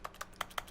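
A brief flurry of four or five crisp keyboard taps, close and evenly spaced, plays alone as typing inside The Stanley Parable.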